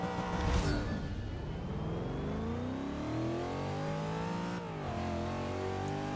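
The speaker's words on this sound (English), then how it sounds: "It does sound quite nice in here with the supercharger." A supercharged car engine in the racing game Forza Motorsport 6 revs and climbs steadily through the gears, a continuous loud whine with pitch rising, dipping at a shift, then rising again; no talking.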